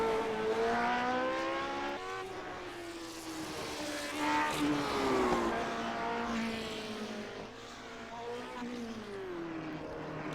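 Race car lapping Cadwell Park in iRacing, its engine droning loudly and steadily with rising and falling pitch through gear changes and corners, while someone talks over it.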